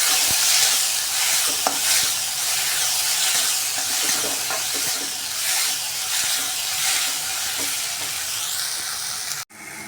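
Tomato puree sautéing in oil for a dhaba-style veg maratha: a steady sizzle and hiss, broken by soft scrapes of stirring, continuous at an even level before a sudden cutoff near the end.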